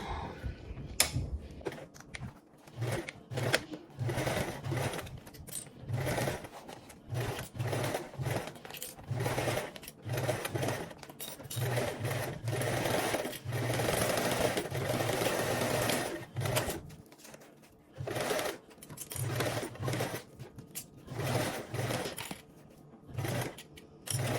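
A sewing machine basting fabric runs in repeated bursts of rapid mechanical chattering, separated by short pauses, with a steady close rhythm throughout.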